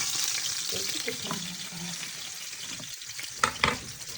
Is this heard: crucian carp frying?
yes